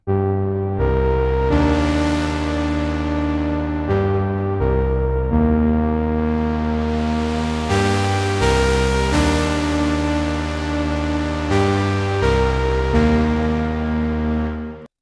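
A deep, melodic house synth patch called 'synth escape' on the Diva soft synth plays just two sustained notes, rich and powerful, ringing out alone and loud with no talking.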